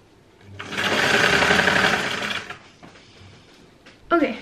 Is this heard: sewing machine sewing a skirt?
yes